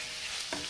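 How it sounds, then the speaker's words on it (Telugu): Ginger garlic paste and curry leaves frying in a pan, an even hissing sizzle with a small spoon knock near the end, no talking. "ఇవన్నీ వేసుకుని బాగా వేయించుకుందాం."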